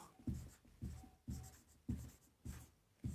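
Chalk or marker strokes on a board during a maths lesson come as a series of about six short, scratchy taps in an even rhythm, close and fairly quiet.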